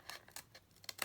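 Scissors snip through folded laminated paper for a square cracker gift box, a few quick crisp cuts, close and quiet.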